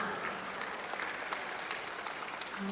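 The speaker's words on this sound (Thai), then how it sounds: "ขอเสียงปรบมือต้อนรับอีกครั้ง" A crowd at a national conference of a dwarf association, held at Nong Nooch Garden in Chonburi, applauds in welcome with sustained, dense clapping that stays loud and even throughout, with no talking.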